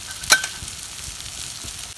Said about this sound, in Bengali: এই যে তরকারিগুলা দেখেন পুরা পুরা হইতেছে, তেলে পুরপুর করে সব কিছু হইতেছে